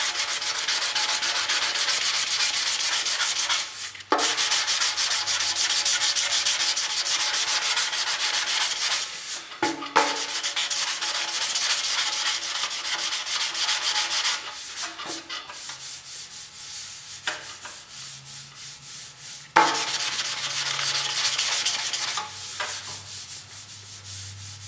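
Hand sanding of body filler on a car body panel with 220 grit sandpaper produces a loud, close, continuous scratchy rubbing, broken into long passes by several short pauses.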